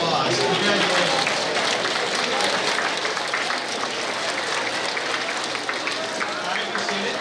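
Sustained audience applause fills a school awards day gathering, a steady dense wash of clapping from a large crowd with a few voices and cheers mixed in throughout.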